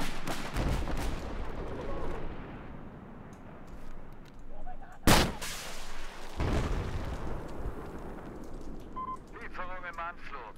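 Gunfire during a multiplayer Conquest match in Battlefield 4 comes as bursts of shots and one sharp, loud blast over a busy combat rumble, with players talking throughout.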